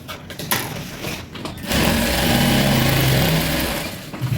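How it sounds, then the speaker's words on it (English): Sewing machine running steadily while stitching a pocket onto Ankara palazzo pants, a close continuous motor whir after a few brief starts and stops. "so I'm done sewing the second pocket"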